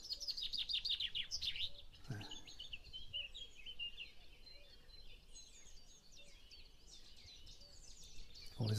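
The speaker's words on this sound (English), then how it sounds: "there's the chaffinch. Supposed to sound like a fast bowler running up and delivering" Chaffinch song in spring, a bright accelerating trill of descending chirps ending in a flourish, repeated over a soft background of other birds and a distant cuckoo.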